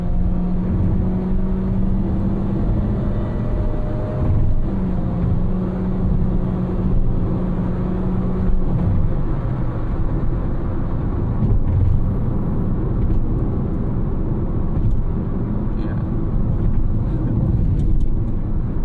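A 2015 Honda HR-V CVT engine drones steadily from inside the cabin, with a constant whirring rumble and a rising, held pitch as the vehicle drives.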